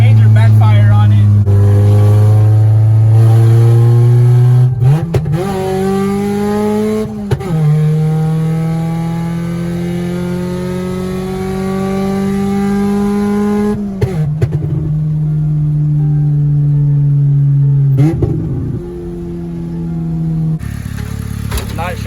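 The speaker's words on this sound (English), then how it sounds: "Has major backfire on it." A Honda Civic Si with a check-engine fault revs repeatedly, its engine tone rising and falling in long sweeps with sharp pops from backfire at several points, loud and close throughout.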